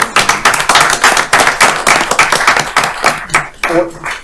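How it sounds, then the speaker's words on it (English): A county council audience gives Mr. Brown a round of applause for his service, close, loud, irregular hand claps that thin out near the end as a voice briefly comes in. "let's give Mr. Brown a round of applause as well for his service"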